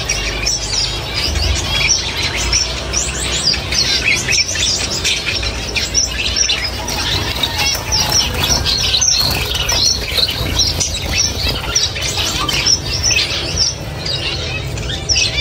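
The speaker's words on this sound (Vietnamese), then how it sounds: "Chim của mình chim bông nhiều lắm nha các bạn." Many caged pet munias and seven-colour finches chirp and twitter continuously, a dense overlapping chorus of small bird calls with occasional wing flutters, kept against a small wall.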